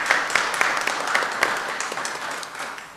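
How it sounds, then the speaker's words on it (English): Applause for city staff in a city council meeting chamber, a modest group clapping steadily and fairly close, the patter tapering off toward the end without talk. "I think we should have a round of applause for staff for all they've done."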